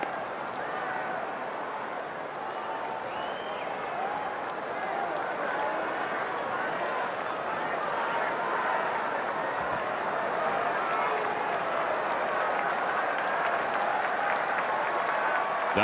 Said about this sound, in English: Dodger Stadium crowd trying to help Ohtani out